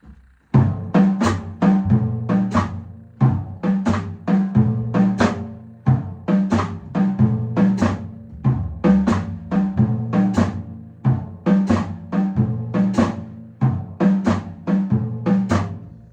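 Snare drum playing a short-long phrase in a jazz context, a run of crisp strokes at uneven spacing with pitched ringing tones, solo and close.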